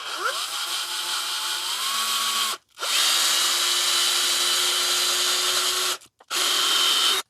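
A power drill with a 21/64 bit boring a hole in a plastic part of an Arrma 4s Mojave RC car, loud whining runs close by, stopping briefly twice between steady bursts.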